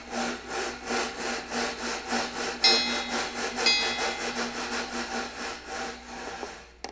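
A rhythmic rasping, scraping sound repeats steadily from a Ludwig and Ludwig silent-film-era train effect device imitating a train's chugging, with occasional brief whistle-like tones.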